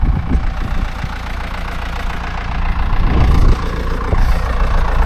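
A Same Explorer 90 tractor runs nearby at a steady idle during third-cut silage work, its engine chugging evenly with a slight rise in intensity partway through and no talking.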